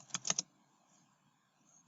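A few quick keyboard keystrokes clustered near the start, close and fairly quiet, then near silence with one final tap at the end.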